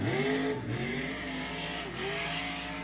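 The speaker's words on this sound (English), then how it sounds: "You hear him getting on and off that throttle. On and off the throttle through the turn." Outlaw modified race car engine at a speedway, the driver repeatedly getting on and off the throttle through a turn, with loud revs rising and falling continuously and a touch of tire squeal.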